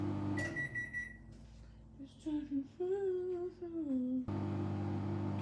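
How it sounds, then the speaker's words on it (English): A microwave oven drones as a steady, low, buzzing hum. It drops away for a few seconds while a wavering tonal sound plays, then returns at full strength. "It mostly blocks out the drone of the microwave."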